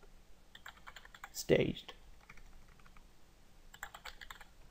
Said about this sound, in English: all you do is you type in git diff dash dash